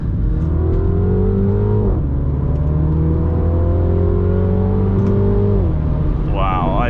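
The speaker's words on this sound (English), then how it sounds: "let's get into enjoying this final drive in the Mini as we come into a 60" A Mini car accelerates hard through its gears, a loud engine drone climbing in pitch with quick drops at each rapid shift, heard from inside the cabin while a voice talks over it.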